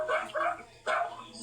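A dog barks a few quick times up close, short yapping bursts at moderate volume, with a pause before the last bark.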